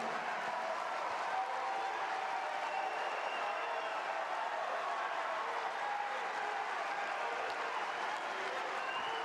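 A tennis crowd in Almaty applauds steadily after a dazzling rally, a dense wash of clapping that stays loud and even from start to finish with no voices over it.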